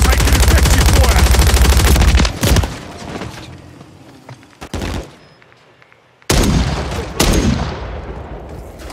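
Gunfire in the video game Call of Duty MWIII: a loud sustained automatic burst, then sharp separate shots with quieter gaps between them, and heavy bursts again near the end.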